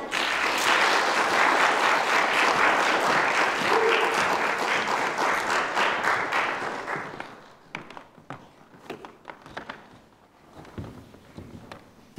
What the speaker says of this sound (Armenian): Ծափարեք